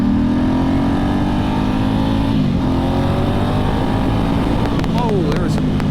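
A 2008 Ducati S2R1000 Monster's engine drones loudly and steadily as the bike accelerates on a twisty road, pitch gradually climbing under heavy wind rush, with a brief dip mid-way.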